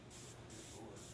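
Hissing bursts from a Bloxygen aerosol can used to purge oxygen from wood-finishing products, sounding as a steady airy spray that pulses roughly twice in about a second, close and fairly quiet.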